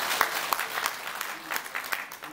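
At a Korean launch ceremony for a nationwide petition to save nuclear power, a modest crowd gives lawmaker Baek Seong-ju a round of applause: sparse, uneven claps that stay fairly quiet, with faint voices in the room.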